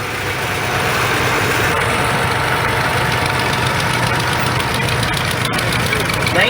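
A 1969 Oliver 1650 tractor engine rumbles steadily in a passing old-engine show parade, a continuous loud mid-range running note with a knocking pulse, with an announcer's voice over the public address.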